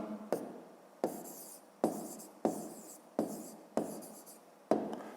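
A hand writes out the answer to a fifth-grade math exercise in a series of about seven quick, scratchy strokes, each starting sharply and fading, close and quiet with no voices.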